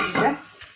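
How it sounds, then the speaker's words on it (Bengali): A lid goes onto a pot of chorchori, a Bengali vegetable dish, with one short metallic clank that fades quickly, followed by a faint tap. "চচ্চড়িটা ঢেকে দিচ্ছি"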